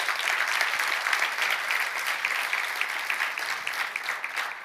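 Steady, sustained applause from a large church congregation, dense and even throughout, with no pauses.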